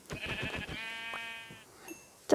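A Minecraft sheep bleats in the video game, a wavering, nasal bleat lasting about a second and a half, loud and close, with no voice over it and a few short game noises around it.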